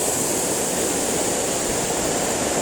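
A constant, dense rush of water spills over a small blocked channel dam in southeast Morocco, loud and unbroken with no other sounds.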